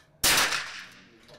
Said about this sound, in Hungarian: milyen légpuskával lőni